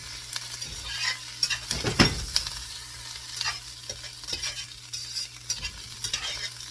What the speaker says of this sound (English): So this I got to keep stirring.